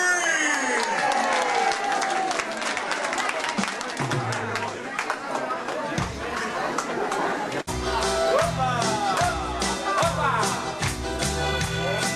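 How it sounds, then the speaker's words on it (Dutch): Audience at a Haarlem smartlappen song festival applauding a singer, a sustained wash of clapping and crowd noise with cheering and chatter mixed in, continuing as music begins underneath. "Dames en heren, een applaus"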